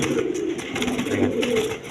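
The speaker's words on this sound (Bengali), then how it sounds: "দুটা খোপাওয়ালা কবুতর দেখেন" Crested pigeons coo steadily and close by, a low rolling murmur that carries on without a break amid a busy pigeon loft, with no talking.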